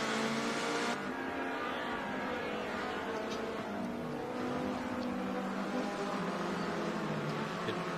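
Group C race cars race past the Dunlop Bridge on a circuit, a dense, continuous engine roar with passing whooshes and shifting pitch, loud and close throughout with no speech.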